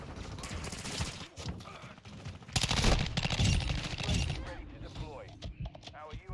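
Rapid automatic gunfire from Call of Duty Modern Warfare II on the Shipment map rattles in dense bursts along with other game sounds, and someone talks over it.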